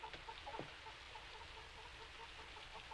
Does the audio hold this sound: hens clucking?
yes